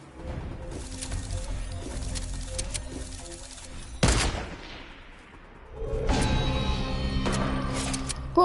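A single sharp sniper shot in a Fortnite match rings out loudly midway and decays away, surrounded by steady game ambience with a brief swell of noise afterward and no talking.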